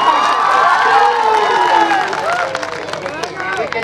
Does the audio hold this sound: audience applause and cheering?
yes